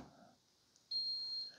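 A Ninja CFP300 DualBrew drip coffee maker gives a single steady high-pitched electronic beep about half a second long after a quiet pause, faint in a calm room.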